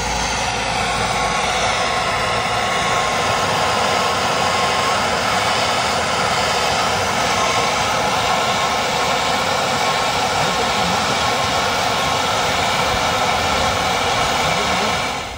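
A torch heats a stripped Allen bolt seized in the wheel hub of a 1987 Volkswagen Vanagon Syncro Westfalia, making a loud, steady broadband roar that runs unbroken for the whole stretch with no voices.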